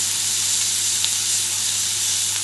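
Smoked duck breast slices sizzling in a hot pan alongside foie gras and abalone, a steady close hiss of frying that runs unbroken throughout.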